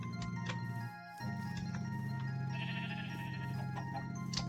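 Sheep bleating in the Minecraft video game: a sustained, loud bleat plays steadily through, with a brief dip near the start, and no talking over it.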